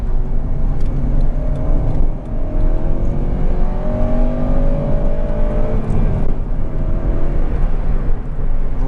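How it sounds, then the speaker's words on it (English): A Honda Civic Type R GT with a 2.0 i-VTEC engine pulls hard under steady acceleration, its engine note rising in pitch from inside the car, loud and continuous with road noise underneath and no talking. "Really is a great engine"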